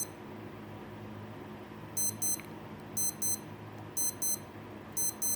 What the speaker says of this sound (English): If I press and hold this, this is an alarm tone test.